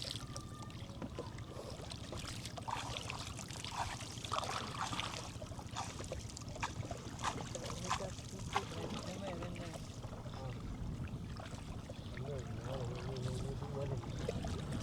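Small waves lap gently at the water's edge in a rural Bangladeshi village, a soft, low, continuous splashing and trickling heard faintly under a person talking.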